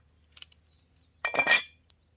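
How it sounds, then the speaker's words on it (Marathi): An iron griddle pan is set on a wood-fired clay stove: two light metallic clinks are followed by a louder, brief scraping clatter close by, then quiet. "तवा ठेवून घेते आता."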